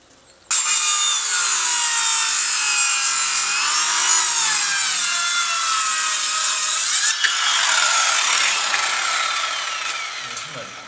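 A saw cuts steadily through a wooden roof beam, a purlin or ridge beam for timber roof framing, with a loud, close, continuous rasping drone that shifts pitch midway and then slowly fades.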